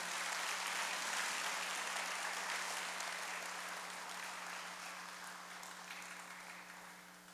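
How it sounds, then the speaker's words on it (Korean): Applause from a church congregation welcoming a newcomer during a Sunday worship service, a dense steady clapping that begins loud and slowly fades over several seconds, with a low hum beneath and no talking. "환영의 박수 부탁드립니다"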